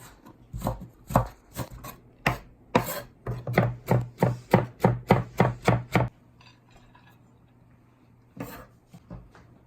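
Knife chopping pork into small pieces on a board for a Chinese and Korean style pork omelette, a quick series of sharp, close, rhythmic chops that speed into a steady run, then stop, with one brief knock near the end.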